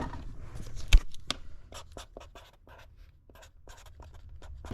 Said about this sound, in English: We're going to label this tape as our customer tape, Hawaii 1987, so we'll write that on there